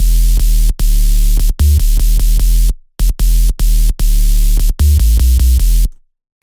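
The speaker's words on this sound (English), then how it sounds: "the sub is literally just a basic sine wave, octave down a little bit, and some bright white noise on top of it" A loud dubstep sub bass built from a basic sine wave an octave down, layered with bright white noise and distortion, pumps in chopped rhythmic bursts with brief gaps, ending in silence.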